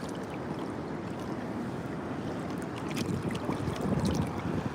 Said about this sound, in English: Actually sitting in the sea right now.